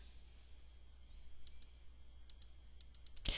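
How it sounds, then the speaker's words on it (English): Sparse, quiet keyboard keys clicking at an irregular pace, a few taps at a time, ending with one sharper, louder click over a low steady hum. "Let me finish typing these in."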